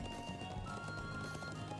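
Horse hooves clop steadily in a fantasy role-playing game, Trails of Cold Steel, a quick even rhythm of close, fairly loud hoofbeats running under a bed of game music with no talking.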